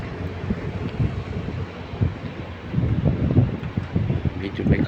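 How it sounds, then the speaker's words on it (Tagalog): Wind gusting across an open outdoor spot, a steady broadband rush buffeting the microphone, louder in the second half, with some low thumps and handling noise throughout. "Siguro naririnig niyo rin yung hangin."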